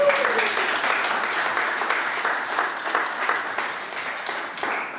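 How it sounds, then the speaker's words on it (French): A church congregation at a Sunday service applauds the servants of God, a dense, sustained wash of clapping from many hands that fills the room, with voices faintly mixed in. "Est-ce qu'on peut acclamer pour les serviteurs de Dieu?"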